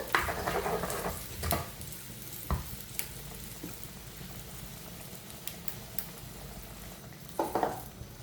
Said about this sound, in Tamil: குழம்பு நல்லா கொதிச்சு கொண்டிருக்குது